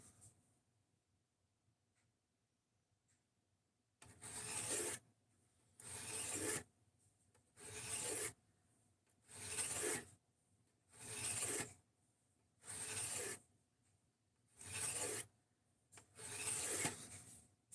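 Knife steel is drawn across a fine-grit sharpening stone in about eight long, even rasping strokes roughly a second and a half apart, close and clear with quiet pauses between, no talking.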